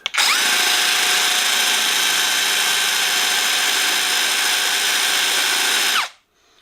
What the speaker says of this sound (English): turn that little switch over to regular drill mode, and you can see without the hammer